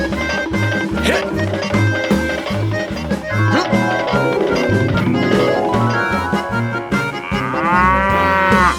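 Cow moos sound amid a busy, rhythmic musical backing in an animated cartoon scene, with a long wavering bellow standing out near the end.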